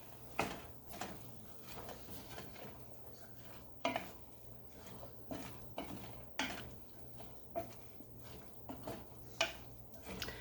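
Chopped celery stalks and leaves are stirred in a pan for dressing, a faint series of spoon scrapes and clinks against the metal in an irregular rhythm over low kitchen hum.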